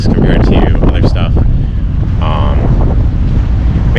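Strong wind buffets a fishing boat at sea in choppy, overcast conditions, a loud constant roar against the microphone with splashing water, and a voice talking briefly over it.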